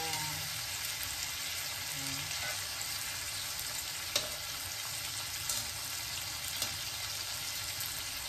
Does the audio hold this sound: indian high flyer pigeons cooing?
no